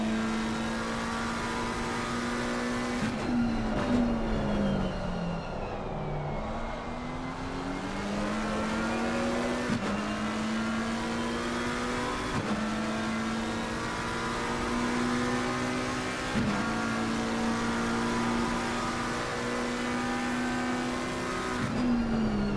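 An Audi R8 LMS race car engine in a racing game drones at high revs, its pitch climbing and dropping sharply with each gear shift, loud and continuous with no talk over it.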